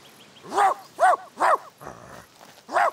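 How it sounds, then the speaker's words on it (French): A dog barks four times in sharp, close, loud bursts, with a brief rougher noise between the third and fourth barks. "T'as pas fini d'aboyer, crétin de chien?"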